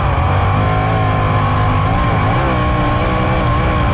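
A winged sprint car's engine roars at full throttle down the straightaway of a Michigan track, a loud, sustained, close-up drone with a slight dip and recovery in pitch.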